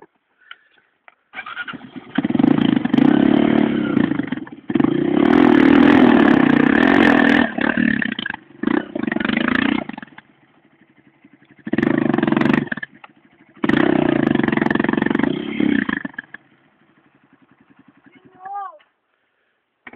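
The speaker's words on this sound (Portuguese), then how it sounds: "A moto Lazareno não morre." A motorcycle engine sputters and runs in loud bursts on a trail, cutting out between attempts, with people talking nearby and a few short tones near the end.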